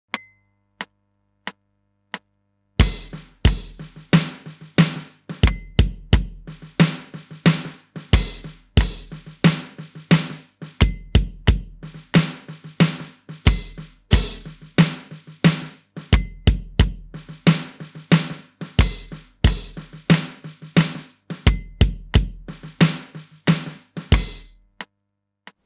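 A drum kit plays a groove with ghost notes against a click track, with sharp, evenly spaced hits and soft taps between them, close and alone, with gaps between phrases.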